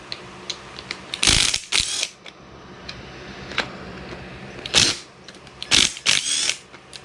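A ratchet with a 6mm Allen socket loosens bolts on a 2006–2009 GSXR 600/750 motorcycle engine during teardown, giving several close bursts of rapid clicking separated by quiet pauses.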